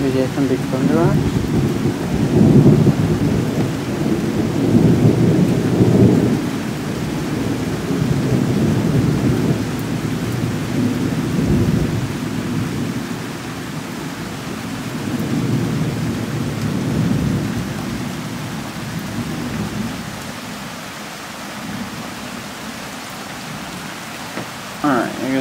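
A thunderstorm with loud rolling thunder rumbles in long swells over steady rain, booms fading and returning, with no voices.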